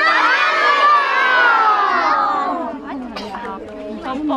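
A crowd of children at a Children's Day event shouts and cheers together in one long, loud yell that fades into excited chatter and scattered calls.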